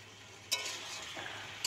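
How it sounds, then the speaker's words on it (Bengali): Meat being stirred and fried in a pan, with a soft continuous sizzle, two sharper scraping clatters of the spoon against the pan, and a faint low hum beneath. "মাংসটা ভালোভাবে কষাতে থাকব।"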